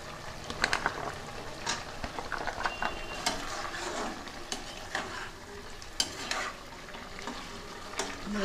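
Beans and papaya sizzle in a pan while a spoon stirs them, with steady frying hiss and repeated scraping clicks close by, part of a spicy chicken stew.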